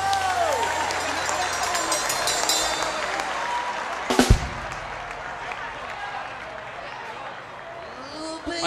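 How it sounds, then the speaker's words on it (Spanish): A stage crowd at a vallenato concert claps and cheers for the performer, a broad wash of applause with a sudden loud burst midway, under a voice and ringing accordion-like tones. "Yo quiero un aplauso para este juglar vallenato."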